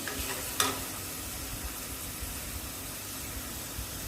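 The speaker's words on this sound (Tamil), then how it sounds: "சின்னதாக 2 தக்காளி எடுத்து அதையும் நல்லா பொடிசாக கட் பண்ணிவிட்டு வெங்காயத்தோடு சேர்த்து வதக்கணும்" Chopped tomatoes and onion with ginger garlic paste sautéing in a pan, a steady close sizzle with a soft stir and a brief scrape near the start, no talking.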